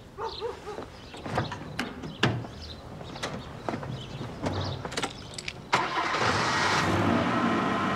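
Several scattered clicks and knocks of handling inside a car lead to the engine cranking and catching, then settling into a steady, fairly loud idle rumble.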